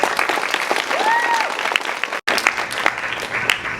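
A high school audience applauds loudly after a student music performance of a piece from Schindler's List, with dense continuous clapping, a brief whistle, and a momentary dropout midway.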